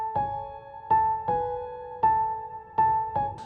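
Dry Keyscape LA Custom Wash piano playing a simple melody with no effects, distinct notes struck roughly every second and decaying cleanly, close and clear with no one talking.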